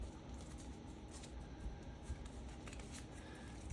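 Objective cards for the Conan board game are shuffled by hand, a soft continuous riffling and sliding of card stock, quiet and close with no voices.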